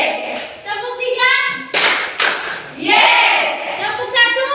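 Schoolchildren in a classroom lesson clap a three-clap pattern, sharp hand bursts arriving close together in a quick run, with a teacher's voice and children's speech around them.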